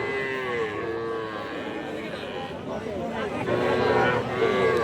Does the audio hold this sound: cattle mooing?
yes